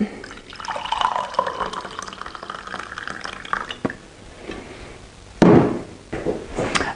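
Hot water pours into a bottle for a morning drink, a close, steady gurgling fill whose pitch shifts as the bottle fills, followed by a couple of brief knocks and a short splash near the end.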